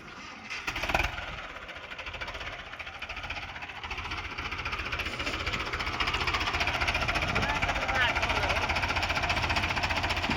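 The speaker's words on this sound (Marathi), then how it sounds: "कंडू मामा पुढे काय ट्रॅक्टर राहू दे." A tractor engine runs on a farm with a steady, rhythmic knocking throb that grows slightly louder and continues without a break, while voices talk over it.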